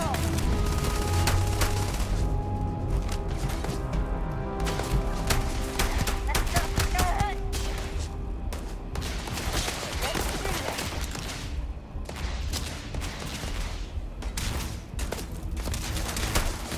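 Gunfire in a Starfield firefight: rapid, loud, closely spaced shots crackling almost without pause, with game voices and talk mixed in.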